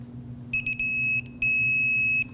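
An electronic torque wrench on an AC compressor bolt of a 2006-2015 Lexus IS250 2.5L V6 gives shrill beeps, a few quick chirps followed by two sustained tones, over a low background hum.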